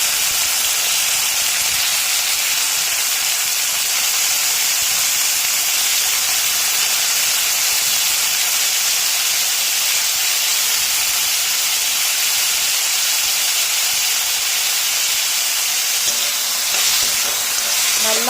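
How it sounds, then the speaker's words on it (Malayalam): Chopped tomatoes sauté in oil in a pan for a drumstick and potato theeyal, giving a steady, loud, broadband sizzle with no talk. "അതിലേക്ക് അരിഞ്ഞു വെച്ചിരിക്കുന്ന തക്കാളിപ്പഴം ഇട്ട് കൊടുക്കാം."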